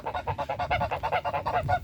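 A rapid run of goose honks, a dozen or so nasal calls in a steady, quick rhythm, fairly close and loud, with no talking.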